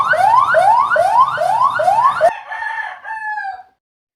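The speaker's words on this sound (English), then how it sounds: "And I actually did see quite a few ambulances this morning." An ambulance siren wails in repeated rising sweeps, loud and close, then switches to a held two-tone call that fades out as it passes.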